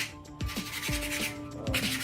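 Steady abrasive rubbing of sanding on wood for a goat hoof-trimming stand, a close scratchy hiss with a few thumps of the tool shifting.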